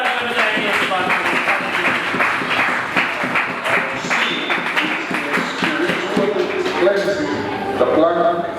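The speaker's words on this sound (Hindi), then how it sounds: "आए जोरदार तालियां बजाएंगे इस बात को।" A church congregation at a water baptism service claps loudly, a dense and steady burst of many hands that holds for several seconds, with voices mixed in.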